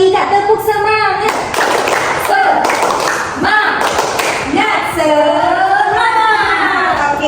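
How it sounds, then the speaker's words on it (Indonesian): Schoolchildren in a fifth-grade Indonesian primary classroom perform a rhythmic spirit clap, sharp group claps and chanted voices in a patterned beat, close and loud, with children's voices mixed throughout. "1, 2, 3 tepuk semangat."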